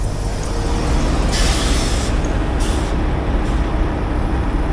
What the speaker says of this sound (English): Let me pull the brakes out.